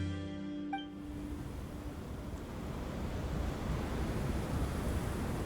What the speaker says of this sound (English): The wind's so strong. Is this a sandstorm?